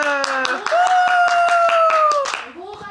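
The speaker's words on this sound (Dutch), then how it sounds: "Applaus voor Famke." Hands clap in a steady, quick rhythm for a girl named Famke at a birthday gathering, close and bright beneath a long sung note from a voice.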